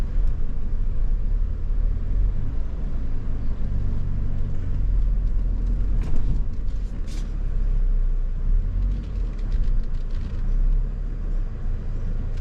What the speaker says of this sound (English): And we got our locking rear differential on. Going up this big hill.